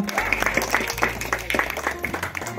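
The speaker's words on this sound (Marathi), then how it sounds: "सर्वांनी टाळ्या वाजवा।" A crowd applauds to welcome a guest at a village birthday celebration in Konkan. The clapping is dense and lively, with voices mixed in throughout.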